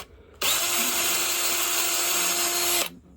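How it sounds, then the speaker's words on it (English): A power drill boring a quarter-inch pilot hole down the center of a wooden walking stick: a loud, steady whine that starts abruptly, holds for about two and a half seconds, then cuts off sharply, close by with no talking. "keep this left hand back out of the way a little bit in case your drill slips"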